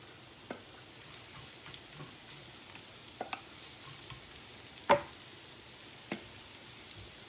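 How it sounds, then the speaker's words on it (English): Onion and cabbage sizzle in a frying pan, a soft continuous frying hiss broken by a few light clicks and scrapes of stirring, fairly quiet with no talking. "in the frying pan, we put onion and cabbage in there"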